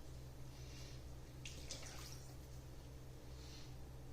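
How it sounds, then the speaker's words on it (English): Water poured from a cup into a cooking pot of chicken stock makes a short splashing pour in the middle, over a steady low background hum in a kitchen. "I'm going to add just a little bit more water, like a cup."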